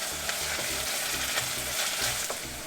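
Onions fry in oil until golden and slightly crisp, a steady dense sizzle with occasional stirring scrapes, close and continuous with no talking.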